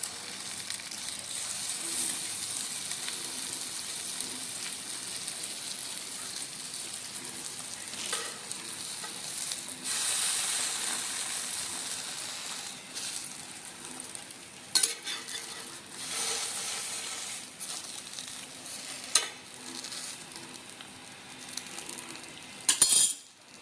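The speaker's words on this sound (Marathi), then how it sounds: "बटर लावून आपण खालून आणि वरून भाजून घेणार आहोत" A buttered dabeli bun toasts on a hot pan with a continuous soft sizzle, broken by stirring and a few sharp metallic clinks of a utensil against the pan. No one speaks.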